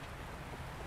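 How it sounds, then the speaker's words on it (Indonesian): Steady rainfall over a village with a dense, even hiss of drops, constant throughout and fairly soft, with no voices. "Hujan."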